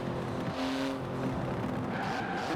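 Racing engine in Forza Horizon 4, a carbon-fibre-bodied 3.8-litre twin-turbo flat-six car with 700 horsepower, droning steadily at close range with brief tyre-squeal tones sliding over it, a continuous dense roar with no gaps.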